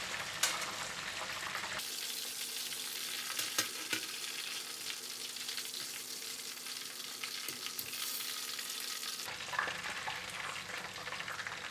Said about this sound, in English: I will leave it here to fry for another 7 minutes.